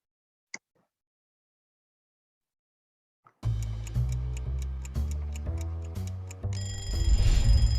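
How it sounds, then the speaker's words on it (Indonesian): After a single faint click and near silence, a phone alarm starts ringing and repeats its bright chiming pattern loudly and steadily to the end. "Setiap pagi mungkin kita bangun karena dengar suara alarm di HP kita"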